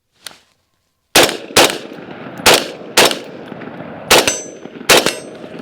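Rifle gunfire on a night shooting drill: one faint early shot, then six loud, sharp reports spaced roughly half a second to a second apart, each with a brief ringing tail.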